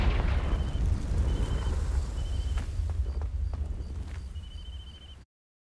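A Confringo fire spell blast in a video game, setting dry vines alight: a rumbling burst that decays over several seconds, with faint chimes flickering on top before it cuts off abruptly.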